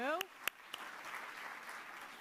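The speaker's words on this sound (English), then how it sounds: "give Jim a round of applause" A presentation audience gives faint, distant applause. A voice and a few sharp claps come first, then a soft, diffuse patter follows.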